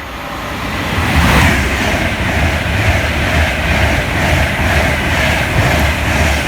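An Avanti West Coast Pendolino running from Liverpool Lime Street to London Euston passes on the West Coast Main Line at Kings Langley, a loud, close, sustained roar that swells after the first second and holds steady with no talk.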